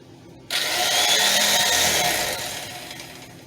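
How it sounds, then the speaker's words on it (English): An electric knife starts abruptly and runs as a loud, steady, high motor buzz, cutting kernels down off an ear of corn, easing slightly toward the end. "I just used an electric knife."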